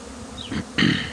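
Honeybees buzz around parent colonies at an apiary hive on a cool, breezy day, with a soft steady hum that rises into two louder close passes, the second stronger and lasting to the end.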